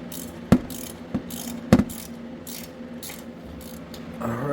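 A ratchet turns through a long socket extension to loosen an 8mm bolt on a Jeep. A few sharp, close clicks come in short bursts with quiet pauses between them, and a brief rising whine follows at the end.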